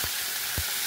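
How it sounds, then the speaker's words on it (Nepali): Meat frying in hot oil in a pan with cumin and bay leaf, a steady broadband sizzle with two brief low thumps, probably from stirring or shifting the meat, close and fairly loud. "अब हामी एकछिन मासु फ्राई गर्छौँ तेलमा"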